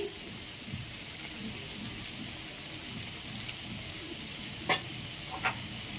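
Ginger and garlic sautéing in a pan for Bengali prawn masala, a steady faint sizzle with scattered light ticks and a couple of louder spoon scrapes toward the end, close up with no voices.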